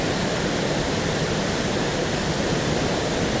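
A waterfall rushes in a steady, dense, broadband roar, loud and continuous with no breaks, no other sounds and no voices over it.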